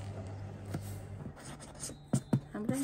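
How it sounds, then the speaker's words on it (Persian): Marker writing on a cardboard moving box while packing glassware, with soft scratchy strokes and a few sharper squeaks near the end, fairly close; a voice speaks briefly alongside. "بنویسیم شکستنی لیوان"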